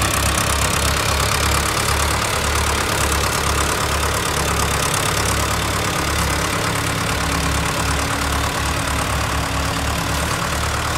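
Mahindra and Arjun tractor engines run steadily nearby, hauling a load of sugarcane out of a muddy field, a low chugging idle with a regular thumping pulse that continues without a break.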